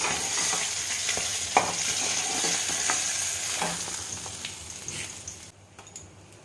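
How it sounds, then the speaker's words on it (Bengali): Dried red chillies and black cumin sizzle in hot oil left in a pan after frying fish, a continuous crackle with faint ticks that drops off sharply near the end. "এবারে ওই তেলে দেবো শুকনো লঙ্কা আর কালো জিরে"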